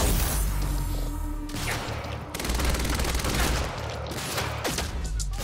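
Gunfire in the video game Quantum Break: loud, dense bursts of rapid shots and crashing impacts filling the scene, with brief pauses between volleys.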